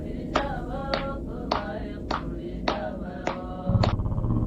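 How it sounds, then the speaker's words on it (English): Women sitting on the floor clapping their hands during a traditional Kohistani song, seven sharp evenly spaced claps at a steady rhythm, moderately close over a low background rumble. "four women sat on the floor, each clapping their hands and singing a traditional Kohistani song"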